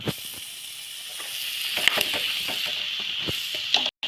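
Chopped raw mango dropped into hot oil for mango pickle, giving a steady close hiss and sizzle with scattered crackles and a few stirring knocks.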